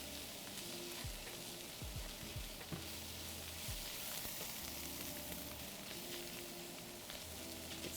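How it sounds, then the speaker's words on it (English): Onions sizzle quietly in a pan for a homemade double burger, a steady fine frying hiss with a few soft scraping stirs near the start. "Just doing one more stir on those onions."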